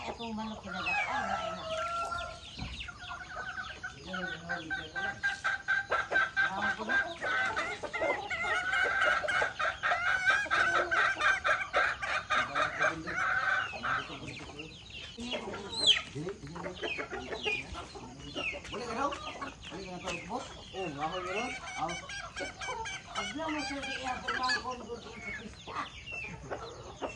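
Chickens cluck repeatedly nearby with scattered squawks and a rooster's crow, while faint voices murmur in the background.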